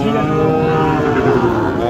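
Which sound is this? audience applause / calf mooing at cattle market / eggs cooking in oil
calf mooing at cattle market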